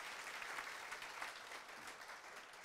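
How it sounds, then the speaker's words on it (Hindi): Steady applause from an audience at a motivational lecture welcoming a geography professor to the stage, dense clapping that holds evenly throughout with no talk over it. "आपकी ज़ोरदार तालियों के बीच मैं आज बॉस को"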